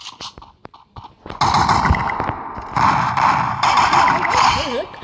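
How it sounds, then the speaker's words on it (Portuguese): Rapid automatic gunfire from the Free Fire video game, near and loud, sounding as sustained bursts after a few brief opening shots, with speech faintly present. "Dá mais um tiro nela. Mais um tiro aí, ela morre."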